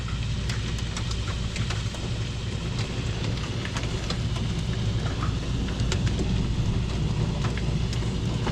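Thunderstorm in Pennsylvania with rain and hail pelting down, a steady dense wash of rainfall with scattered sharp ice impacts, loud and close throughout, with no voices.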